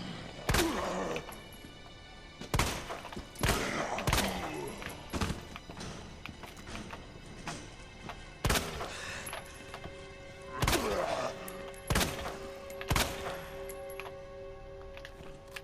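Gunfire in Resident Evil 2 Remake rings out as sharp, loud shots at irregular intervals, around ten in all, with someone talking between and over them.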